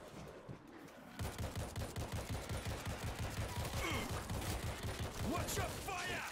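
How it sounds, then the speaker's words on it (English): Rapid bursts of automatic gunfire in the World War Z video game, set in Moscow by the river near the Kremlin, crackling in a fast steady rhythm at moderate distance amid game effects. "We're hearing gunfire from the river."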